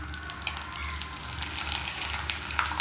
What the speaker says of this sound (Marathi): आता तुम्हाला मी तळून पण दाखवणार आहे की किती फुगतात हे पापड।